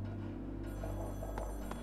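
A telephone rings in the Splatoon 2 Octo Expansion game, a steady electronic ringing over a low musical drone, close and alone with no talking.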